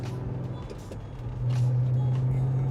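A Mercedes E55 wagon converted to a factory Mercedes 6-speed manual, its engine rumbling at low revs, then settling into a steadier, louder drone after a shift, heard from inside the car.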